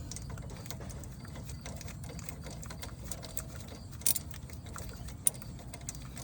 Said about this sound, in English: I'm gonna go ahead and demonstrate these palm ratchets again.